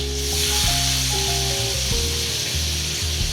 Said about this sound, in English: your oil should be really well hot, not too high to where you're going to burn, but you should get a nice sizzle.